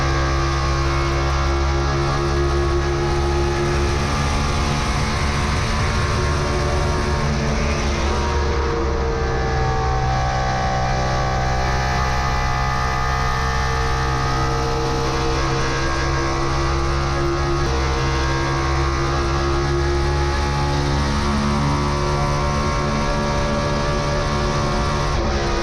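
Kurt Busch's NASCAR Next Gen race car engine at test, captured from the in-car camera: a loud, steady roar with throttle rising and easing throughout, dense and continuous for the whole stretch with no talk.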